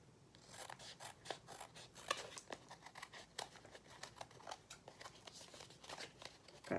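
Scissors trim material in a quick series of crisp, close snips and rustles, each cut a short sharp click repeating unevenly, quiet overall with no talking.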